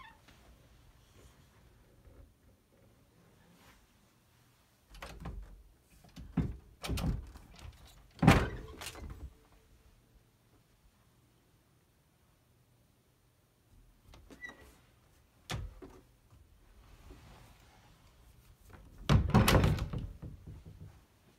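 Closet double doors in a bedroom being opened and shut, giving several dull wooden thunks and knocks in scattered bursts, fairly close, with quiet room tone between them and no talking.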